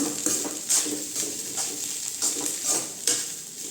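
Egg rice with coriander leaves is stirred in a pan, soft rhythmic scrapes and light metallic taps repeating about every half second over a faint sizzle.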